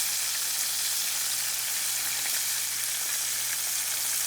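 Lake trout pieces pan frying, giving a steady, close, unbroken sizzle and crackle of hot oil with no talking.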